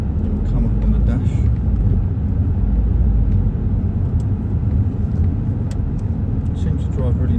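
A used car on a test drive in the UK gives a steady, close engine and road rumble that runs unbroken, with a voice speaking over it.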